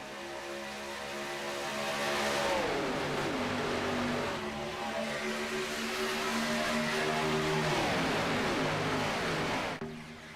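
Race cars in a stock car racing video game at Daytona surge back onto the throttle as the green flag restarts the field, a loud, sustained multi-engine roar with rising and shifting engine pitches layered over each other.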